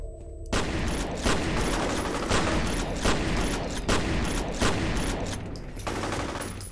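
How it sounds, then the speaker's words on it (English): Sustained bursts of automatic gunfire in the shooter game F.E.A.R., loud and close, with rapid repeated shots and volleys filling the whole stretch. "Keep firing!"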